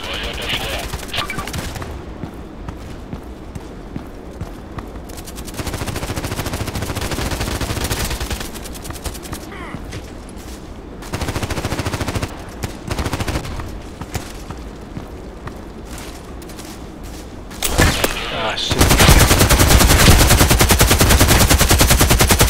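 Rapid bursts of RPK machine gun fire in the Contract Wars shooter game, loud and sustained, broken into several long strings of shots with brief gaps between them.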